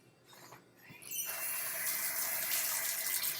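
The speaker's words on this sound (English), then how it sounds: "Wash off that spoon" A kitchen tap is turned on to rinse off a spoon used for tasting soup, a brief squeak followed by a steady, close rush of running water that continues to the end, with no talk.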